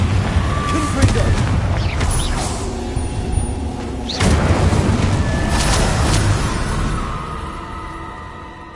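Blasts from the Confringo explosive spell in Hogwarts Legacy, loud booming impacts that burst out repeatedly over a dense, continuous background of combat noise.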